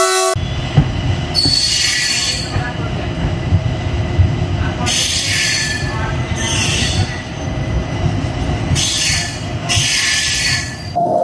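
Close, loud rumble of the Okha Rameswaram Express running on an old ICF rake, its steel wheels clattering steadily on the rails with repeated high squeals between Jamnagar and Hapa.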